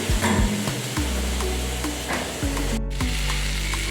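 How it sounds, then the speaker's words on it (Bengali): Cumin and spices sizzle steadily in a hot pan while a vegetarian cabbage dish is cooked, a loud, continuous frying hiss with a few soft clinks and stirring scrapes. "খুব ভালো করে মশলাটা ভেজে নিই"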